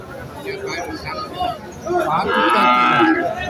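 A cow lets out a loud, drawn-out moo nearby at Setabganj cattle market in Dinajpur while people chatter in the background.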